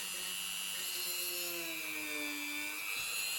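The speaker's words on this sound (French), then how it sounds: "Ma mini perceuse. Et puis je viens faire un petit trou" A mini rotary drill whines at a steady high pitch while boring a small hole in a cleaned tree root, its tone sliding slightly as the bit bites, close and continuous.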